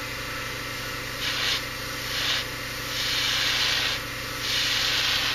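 Airbrush spraying paint onto a model kit shield for a fade job, in four close, steady hissing bursts of about a second each over a continuous background hum.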